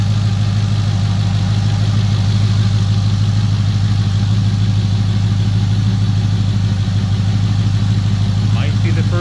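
A first-generation Ford Coyote V8 with a fourth-generation intake and dual throttle bodies idling close by, a loud, steady low rumble with an even pulse throughout, and a brief voice or squeak near the end.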